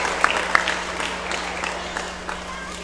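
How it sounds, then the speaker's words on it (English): Applause rings out for a contestant at a county fair sheep and goat show, a brief burst of clapping from the crowd that trails off over a steady low hum, with a few louder claps near the start. "Let's give him a nice round of applause."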